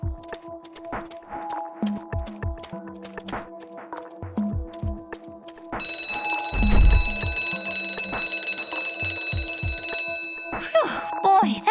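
A fire alarm rings in the video game Monster High: New Ghoul in School, a steady electronic bell that starts midway and sits over soft game sounds and music, loud and continuous for several seconds.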